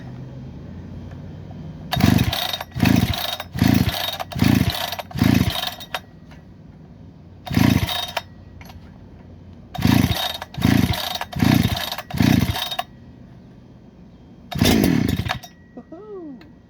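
A brand-new Holzfforma G288 chainsaw being pull-started: a run of sharp rhythmic starter-cord pulls with brief engine sputters, pauses, more pulls, then a short burst of engine running, close and loud.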